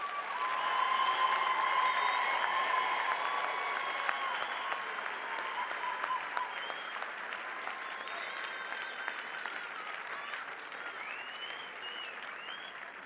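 Sustained applause from a graduation ceremony audience at the College of Medicine of South Africa admission ceremony in Johannesburg, a steady dense wash of clapping from a large crowd that gradually softens over about thirteen seconds.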